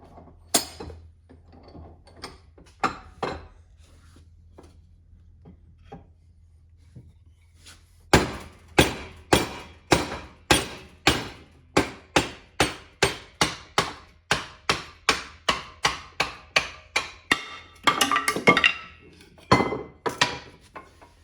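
An axe head is driven onto its handle with a long series of sharp, evenly spaced hard knocks, sparse at first and then rapid and loud at close range.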